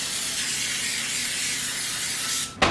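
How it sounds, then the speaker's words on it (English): Pam baking spray hisses out in one continuous close burst, coating muffin tins for about two and a half seconds before cutting off abruptly. "spray the muffin tins really well so they don't stick"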